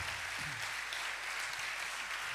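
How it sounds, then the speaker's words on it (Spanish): Sustained clapping from an audience at a folk music festival, a dense even wash of applause that holds steady for the whole moment. "un aplauso más grande"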